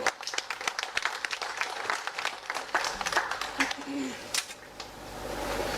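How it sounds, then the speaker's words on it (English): An audience at a West African central bank governors' conference in Freetown, Sierra Leone breaks into applause, irregular claps building into a steady round that fades toward the end, with faint voices underneath. "Please, let's give them a big round of applause"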